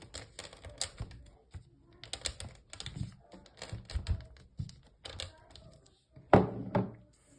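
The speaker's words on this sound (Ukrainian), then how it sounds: "та молотком розтираємо" Sunflower seeds, pumpkin seeds and peanuts wrapped in paper are crushed with a hammer, giving a string of close, irregular dull knocks and taps with brief pauses, the last few blows harder and louder.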